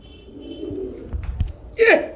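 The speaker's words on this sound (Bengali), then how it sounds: "এখানেও একজন লাহরি কবুতর রয়েছে দেখার মতো" A Lahori pigeon gives a short, close coo near the end, after some quiet shuffling and soft thumps.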